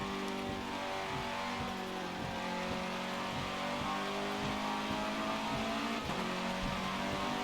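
A loud racing car engine in the Forza Motorsport 7 video game drones and revs continuously up close, with steady harmonic roar and occasional shifts in pitch throughout.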